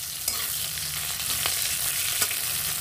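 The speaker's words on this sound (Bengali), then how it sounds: "এটাকে একটু নাড়াচাড়া করে নেব। আর এই সঙ্গে আমি যে চিংড়ি মাছ কটা রেখেছিলাম ওটাও দিয়ে দেব।" Fried potato and pointed gourd peels with shrimp and black cumin stirred in a pan: a steady sizzle broken by a few scraping clinks of the spatula, close and alone.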